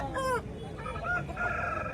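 A rooster crows once, loud and close, amid the steady bustle of a hen market in Bhadradri Kothagudem, with other fowl clucking faintly afterward.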